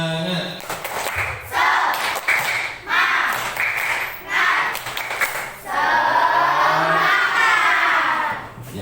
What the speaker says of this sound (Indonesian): Kita awali dengan tepuk semangat ya. Oke. Tepuk semangat.